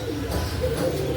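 A Pakistani pigeon, called a Pakistani teddy, coos nearby in a few soft, low, rolling calls, fairly close and clear, with faint background noise and no talking.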